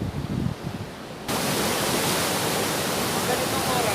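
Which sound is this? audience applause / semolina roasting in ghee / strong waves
strong waves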